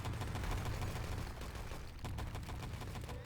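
Gunfire from a Wolfenstein: Enemy Territory match at a nations cup tournament. Dense, rapid shots rattle continuously at an even level throughout, fairly quiet, with no voice on top.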